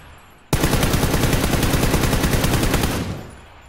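Rapid automatic gunfire from a shooter video game, one loud sustained burst of evenly spaced shots lasting about two and a half seconds, starting abruptly and then tailing off, with no talk over it.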